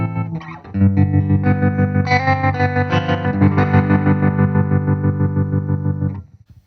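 Electric guitar through a Violet Tremolo pedal set to square wave mode, sustained chords chopped into sharp on-off pulses at a steady rapid rate, loud and close, then fading out.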